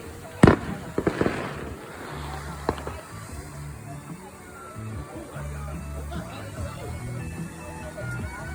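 Fourth of July fireworks crackle and pop close by, with a loud burst early on and then scattered small bangs and fizzing sparks over a low rumble, with voices faintly in the background.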